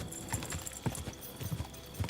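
Horse hooves clip-clopping in the video game Kingdom Come Deliverance II, a quick uneven series of hard knocks at a walking pace, fairly close and clear.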